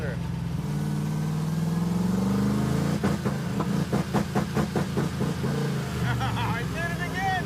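A 1980 Dodge Mirada's engine drones loudly, then rises into a rapid stuttering pulse like a rev limiter cutting in, with talk over part of it.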